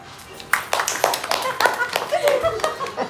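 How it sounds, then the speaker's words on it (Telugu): Hand clapping at a child's birthday celebration, a run of sharp, fairly close claps from several people, mixed with chatter and light laughter. "Super claps."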